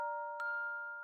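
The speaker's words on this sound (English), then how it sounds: "The bells rang behind me." A soft bell rings in a hushed, still space, a bright struck tone that rises from steady sustained ringing partway through and lingers, clear and close, with no voices.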